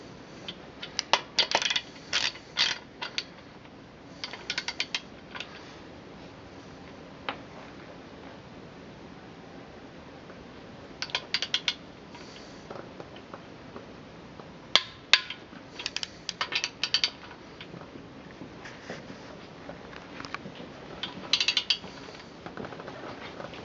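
Hand tools working on an engine block's main bearing cap bolts, with a torque wrench and ratchet clicking and clattering in intermittent bursts of metallic ratcheting and small clinks over a quiet shop background, no talking.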